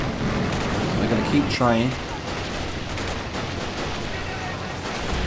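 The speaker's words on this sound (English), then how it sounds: "I think because the artillery is keeping them covered" Artillery and gunfire in Arma during an AMOW battle between Red and Blue armies, sounding as a continuous rumbling barrage of booms and shots under a man's speech.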